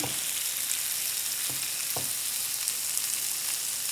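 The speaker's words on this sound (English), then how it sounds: "And I'm gonna put this right on the grill pan." Marinated tri-tip steak sizzling on a grill pan, a loud, dense, continuous hiss close by, broken by a few soft knocks, with no talking.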